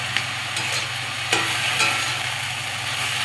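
Water lily stems sizzle steadily in a hot pan while being stirred, a loud continuous frying hiss broken by a few sharp scrapes and clinks of the spoon.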